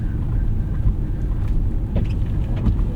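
A 2005 Lexus SC 430 on Michelin CrossClimate 2 tires pushing through deep snow, heard from inside: a steady low engine rumble with muffled crunching and churning from the tires.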